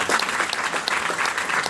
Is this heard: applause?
yes